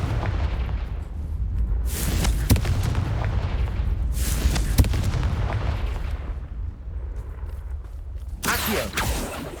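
Fiery blasts from a Confringo spell in Hogwarts Legacy burst repeatedly, several booming explosions with sharp cracks over a rumbling low-end bed, loud and near, separated by a few seconds each.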